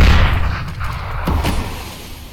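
A grenade blast in the video game CS:GO, heard as a loud boom at the start that rolls off into a rumbling tail, followed by a few fainter crackles.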